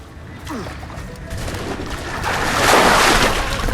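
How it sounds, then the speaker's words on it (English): Loud rushing, crashing water splashes in Assassin's Creed IV Black Flag build up and swell toward the end, with booming game sounds and a voice mixed in. "That's some loud water."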